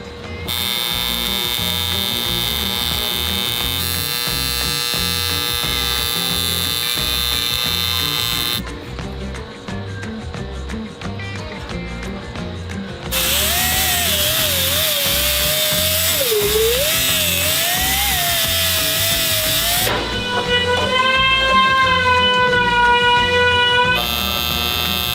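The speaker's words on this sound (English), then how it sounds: "So what I'm doing is every other 2 inches I'm welding." Tack welding on a car body panel for a Hoonicorn rebuild, a loud steady electric buzz and hum that shifts in pitch across several sustained passes, with no talk.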